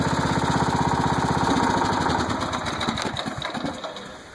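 Craftsman lawn tractor engine running nearby, a loud steady small-engine drone with a rhythmic pulse that roughens and fades slightly toward the end.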